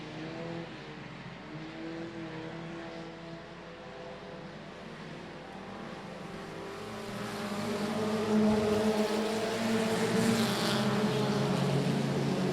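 Race cars at I-37 Speedway running bumper to bumper down the front stretch, a steady engine roar with layered harmonic drones that swells louder in the second half as the pack passes close.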